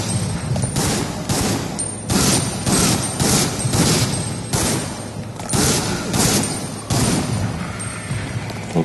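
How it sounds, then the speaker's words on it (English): Video game gunfire from Resident Evil Outbreak, loud repeated bursts of shots in quick volleys with short gaps between them, heavy and close throughout. "I hear gunfire."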